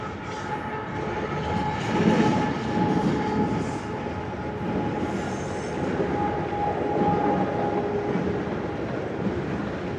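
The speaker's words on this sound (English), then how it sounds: "Trains coming in, that's what that noise is." A train rumbles past in Leduc, Canada, a continuous loud rolling roar with a faint high squeal of wheels, steady for the whole stretch.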